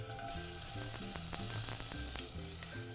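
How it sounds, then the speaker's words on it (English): Spanish onion sweats in extra virgin olive oil, a soft steady sizzle with faint crackles heard under a tonal musical backing. "I'm just going to sweat a little bit of Spanish onion here"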